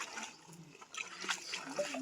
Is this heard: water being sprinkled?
yes